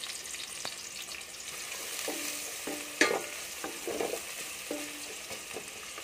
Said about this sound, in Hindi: प्याज़ों को हल्का सा आपने लाइट ब्राउन कर लेना।